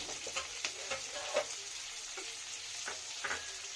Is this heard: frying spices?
yes